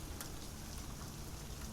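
Steady rain falls across a wet swampy basin, a faint, even hiss of drops with no pauses, distant and soft throughout.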